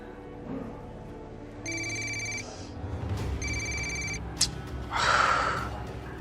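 A telephone rings unanswered, two clear electronic trilling bursts separated by a pause, fairly loud over quiet room noise.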